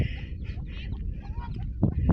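Young duck quacking in a barn, giving a few soft, faint calls followed by two louder, close quacks near the end over a low background rumble.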